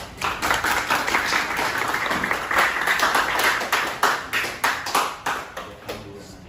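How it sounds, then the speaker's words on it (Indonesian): Classroom students clap together for a classmate after an answer in a physics lesson on Newton's laws, starting as a dense burst of applause and then settling into slower, rhythmic group claps, with a faint voice underneath. "Tepuk tangan dulu untuk temannya."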